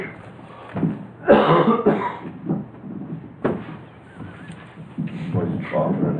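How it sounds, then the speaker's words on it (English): Several sharp coughs and throat-clearing sounds from a person at a town budget meeting, fairly close and spread over a few seconds, amid room noise and bits of speech. "Was he coughing and hacking?"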